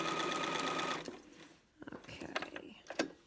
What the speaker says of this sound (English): You're sewing around the edge there.